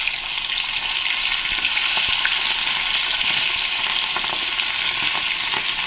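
Hilsa fish frying in hot oil tempered with black cumin and black mustard seed, a loud, steady sizzle and hiss crackling continuously up close.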